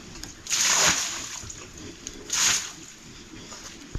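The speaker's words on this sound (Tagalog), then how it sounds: "Parang hose." Water from a hose sprays onto farm animals in a rural countryside yard, in two hissing, splashing bursts about two seconds apart, with quieter dripping and trickling between them.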